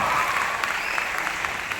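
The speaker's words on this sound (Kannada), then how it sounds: "ನಿಮ್ಮ ಪ್ರೀತಿಯ ಚಪ್ಪಾಳೆ ಕೊಡ್ತಿರಲ್ಲ, ಅದು ಬಹಳ ದೊಡ್ಡದು" An audience at a Kannada stand-up comedy show claps steadily, a dense, sustained applause of many hands filling the short moment without speech.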